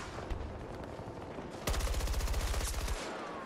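Automatic AK assault rifle fire in Battlefield 2042 hammers out as a loud, rapid burst of about a dozen shots lasting over a second, preceded by quieter distant gunfire and battle noise.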